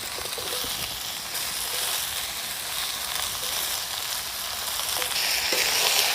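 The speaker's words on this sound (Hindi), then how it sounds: "तो सब्ज़ी को हम 2 मिनट भून लिए हैं, तो इसे हम थाली से ढक देती हूँ।" Steady, close sizzling of kadam vegetable frying in hot oil, a bright crackling hiss that swells slightly toward the end, with a few faint utensil clinks.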